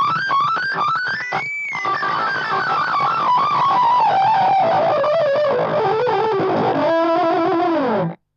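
Electric guitar run through Digitech RP50 factory preset effects, a loud, heavily distorted and modulated wash with pitch sweeps rising and then sliding down, ending abruptly.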